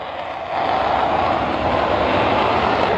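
Jet fighters, an F-86 Sabre and a Gnat, roar through an aerial dogfight as a steady, loud broadband engine rush that swells slightly after the first half second and holds.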